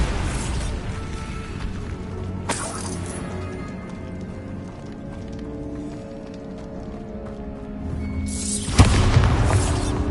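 A Bombarda blasting spell in a Harry Potter video game: a sharp burst near the start, a rumbling stretch, then a heavier explosive boom near the end, all loud with no talk.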